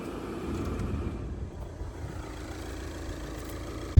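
A 2014 VW Passat TDI diesel engine idling after thermostat and heater core replacement, a low steady rumble heard at moderate distance, even and unbroken until a sudden thump at the very end.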